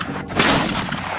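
A single loud, close blast from a Spanish gun erupts and is followed by a sustained roaring rumble that fills the whole moment.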